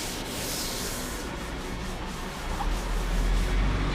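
Steady, soft rubbing of 400-grit sandpaper worked by hand over car bodywork during paint preparation, a continuous light abrasive hiss with no talk.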